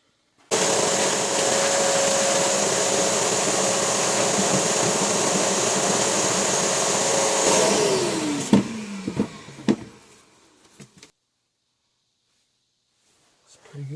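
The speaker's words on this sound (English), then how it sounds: "That should be cleaned and vacuumed out as well." A vacuum cleaner runs steadily, cleaning out a water heater's burner cabinet and its screen; a loud continuous whine holds for about seven seconds, then winds down with a falling pitch, followed by a few knocks and silence.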